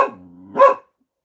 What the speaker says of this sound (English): You the one who got her barking.